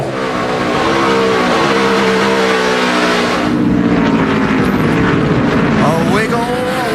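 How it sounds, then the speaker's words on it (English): NASCAR stock cars racing at Watkins Glen, loud roaring V8 engines passing close with rising and falling pitch as drivers accelerate hard, with a race commentator talking over the noise. "Here comes Ambrose hard in the throttle."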